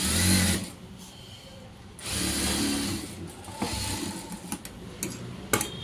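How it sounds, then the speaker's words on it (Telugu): A domestic sewing machine stitches a fine, close seam on fabric in several short runs of rapid mechanical whirring and ticking, with brief pauses between bursts; close and fairly quiet, no talking. "ఇలా కుట్టుకోవాలి సన్నగా, కదలకుండా దగ్గరగా."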